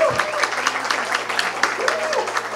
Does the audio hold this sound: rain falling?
no